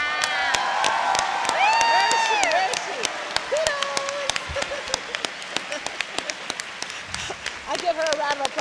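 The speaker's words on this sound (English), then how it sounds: "I give her a round of applause for that." Applause and cheering from the audience at a voice actor convention panel, a burst of clapping with whoops and excited voices that thins into scattered claps over several seconds.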